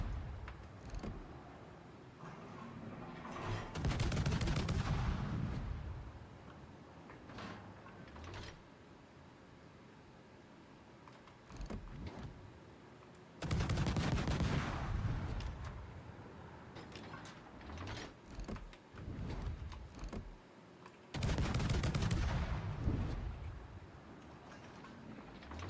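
Naval ship gun shells firing in a video game, three heavy booming salvos spaced several seconds apart, each a loud broad blast with a rumbling tail over quieter background game noise.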